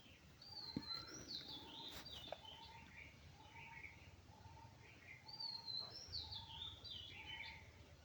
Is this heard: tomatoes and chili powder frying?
no